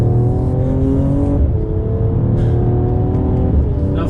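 A 2019 Mercedes-AMG CLS53 accelerating hard in Sports Plus mode, its engine roaring loud and close as it climbs through the revs, with brief dips at gear changes.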